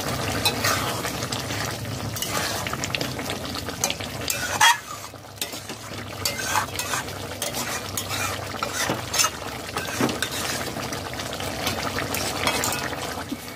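A Bengali-style vegetarian cauliflower roast sizzles and fries in ghee over high heat while it is stirred. The sizzle is steady and close, with scraping stirs and one brief lull partway through. No one speaks.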